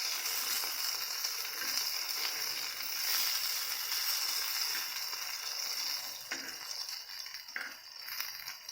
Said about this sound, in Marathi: ह्या बारीक गॅसवर भाजून घ्यायचं ह्या तवा चांगला गरम झाला